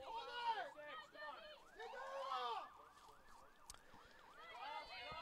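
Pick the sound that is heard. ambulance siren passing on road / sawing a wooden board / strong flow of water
ambulance siren passing on road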